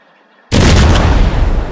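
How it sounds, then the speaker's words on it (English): A large aerial fireworks finale, Doom Boom shells, erupts with a sudden loud close blast after half a second of quiet, then a sustained roaring rumble of overlapping explosions and crackle. "we got this insane finale set up for you guys. Fireworks show."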